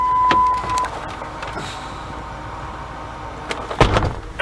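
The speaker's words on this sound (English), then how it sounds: "it just goes beep like that." A short electronic door-ajar warning beep from a Ford Windstar van sounds near the start, followed by clicks and a door-like thump near the end, with quiet background hum.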